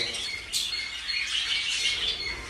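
Baby birds (chicks) placed in a cleaned nest box with fresh nesting material chirp in thin, high, overlapping cheeps that rise after a brief bump and carry on close and continuous.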